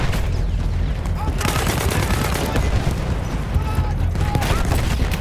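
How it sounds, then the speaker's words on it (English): Battlefield 1 campaign gunfire rattles in sustained, loud bursts with overlapping rifle and machine-gun shots and distant booms across the whole stretch, while a player speaks over the battle. "where am I getting shot from?"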